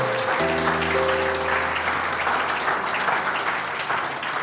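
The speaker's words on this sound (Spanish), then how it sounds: "Denle el mejor aplauso que tenga el Señor." A church congregation at an Easter Sunday service breaks into sustained, loud applause that fills the room for several seconds, opening with a brief held musical tone underneath.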